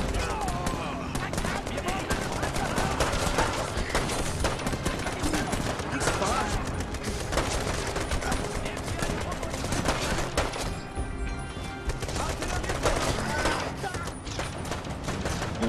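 Rapid sustained gunfire in the war game Brothers in Arms 3, dense bursts of shots layered with battle effects at constant high level, with a voice talking over it at times.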